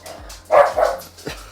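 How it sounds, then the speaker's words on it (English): A single dog gives a few sharp, fairly close barks in an indoor room, loud bursts separated by short pauses. "That was my dog, Milo."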